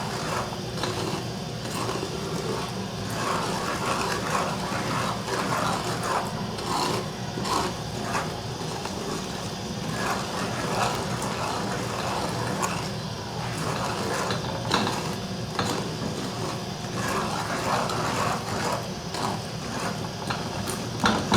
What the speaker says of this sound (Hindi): आपने इसको लगातार चम्मच चलाना है ताकि सूजी जो है वो नीचे लग ना जाए।